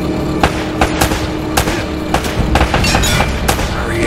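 Gunfire in the video game Uncharted: Drake's Fortune, dense and loud, with sharp shots cracking in irregular bursts over a constant busy layer of battle noise and no talking.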